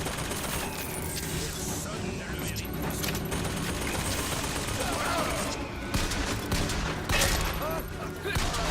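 Dense, continuous gunfire from the Bioshock Infinite video game, with rapid shots layered over a busy combat mix and people talking in French throughout.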